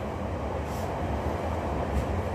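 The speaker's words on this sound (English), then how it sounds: "You get to see a train go by every night." Train rolling past on a railway line between Croftfoot and Glasgow Central, a steady, fairly loud broadband rumble holding evenly for the whole stretch with no talking.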